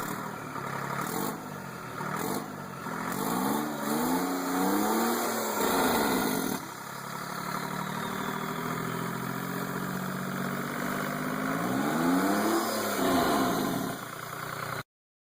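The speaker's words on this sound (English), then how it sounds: "Known for its distinctive high-pitched Detroit scream, the 3-53T offers robust torque and long service life" A Detroit Diesel 3-53T engine runs with a high-pitched whine and a steady mechanical drone, rising and falling in a few revving swells over a sustained, fairly quiet running tone.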